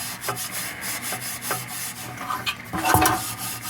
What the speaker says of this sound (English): I'm just trying to smooth out the burrs of rust and things